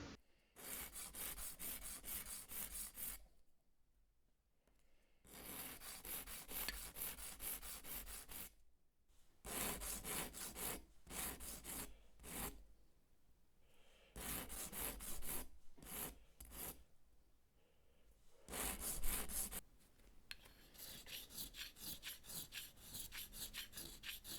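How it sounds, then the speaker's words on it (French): A hand file rasps shell grains into round discs in a craft workshop, making repeated close, gritty back-and-forth strokes in bursts separated by short pauses, with no voices. "Je lime des angles pour obtenir un octogone, puis je continue jusqu'à obtenir un cercle parfait."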